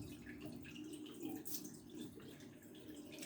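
Tap water runs steadily and faintly while someone rinses their face at a sink, a soft continuous splashing with small drips and no speech.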